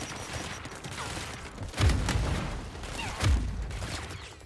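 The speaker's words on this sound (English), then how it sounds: "Oh, grenades!" Grenade explosions in the video game Control: two heavy, booming blasts a little over a second apart rise out of a constant noisy game background of rumble and clatter.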